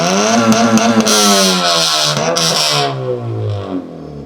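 A car with a loud modified exhaust idles and runs close by, giving a steady, throaty drone that sags lower in pitch toward the end, with no talking.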